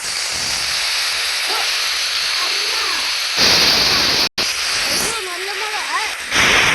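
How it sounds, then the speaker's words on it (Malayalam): Steady heavy rainfall in a Shinchan cartoon scene, a dense continuous hiss that swells louder partway through, with brief voices and cartoon sounds poking out over it. "നല്ല മഴ"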